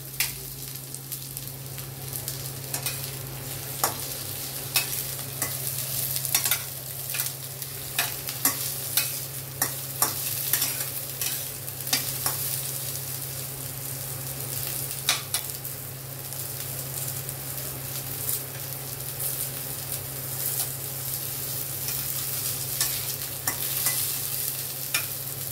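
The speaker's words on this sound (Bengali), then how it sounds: "একটু লাল করে ভেজে নিচ্ছি।" Potatoes and pointed gourd fry in oil toward a reddish colour, a soft steady sizzle broken by repeated scrapes and clicks of a spatula stirring them around the pan, fairly quiet with no talking.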